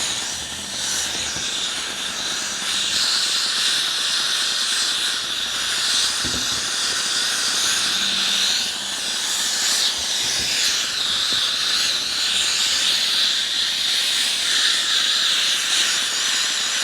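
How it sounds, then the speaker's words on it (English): Steam hisses steadily onto creased leather shoes to soften them, a continuous close broadband hiss lasting throughout with slight swells and no talk. "get some steam going on the leather"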